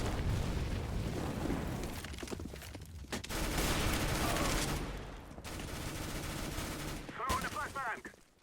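Grenade explosions and gunfire in a tactical shooter game, a series of loud booms and crackling blasts with rumbling decay, repeated several times at close range.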